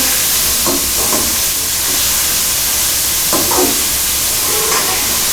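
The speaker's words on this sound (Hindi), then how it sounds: "अब प्याज को भी अच्छे तरीके से ब्राउन करेंगे।" Onions brown in oil in a frying pan, giving a steady, loud sizzling hiss with a few soft stirring scrapes and no talk.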